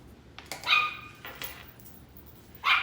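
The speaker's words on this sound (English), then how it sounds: "Maggie is now barking at the man mowing his grass across the street" Maggie, a dog, barks at a man mowing grass across the street: a few sharp, high yips and barks in two short bursts, fairly close, with quiet between them.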